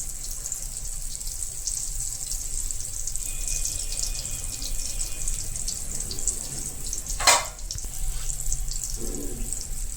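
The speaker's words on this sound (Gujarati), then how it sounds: "હાંડવાને ધીમા ગેસ ઉપર જ પાકવા દેવાનો જેથી કરીને સરસથી ક્રિસ્પી બને" Handvo batter, a savory Gujarati cake, cooks in a pan over a low gas flame with a steady, soft sizzling hiss. A brief clatter sounds partway through.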